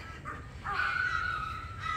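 Crows cawing on a cold winter morning outdoors, a couple of drawn-out harsh calls rising over a steady low rumble of ambient background noise.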